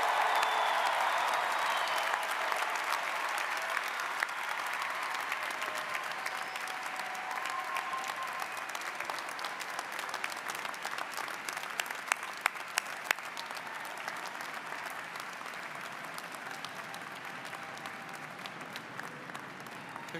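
Sustained audience applause for graduates at a university mid-year commencement ceremony, a steady wash of many hands clapping that holds at an even level for about twenty seconds, with a few sharper individual claps near the middle.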